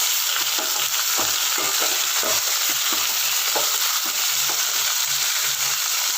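Small pieces of boneless mutton frying in oil hiss with a steady, dense sizzle, broken by the repeated scrapes and clatter of stirring in the pan, with no voices.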